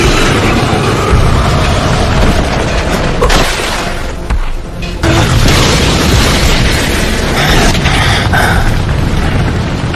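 Anime fire-style dragon flame jutsu attack erupts in a loud, sustained roaring blast with rumbling booms, dipping briefly midway before surging again.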